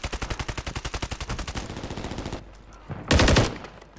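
Machine gun fire in Call of Duty rattles in a long, rapid, evenly spaced automatic burst for a couple of seconds, then a shorter, louder burst follows after a brief pause.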